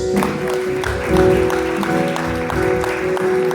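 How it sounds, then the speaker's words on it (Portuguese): Applause from a church congregation after a prayer, with irregular clapping over sustained tones from music or organ, moderately loud and steady throughout. "Dê uma salva de palmas"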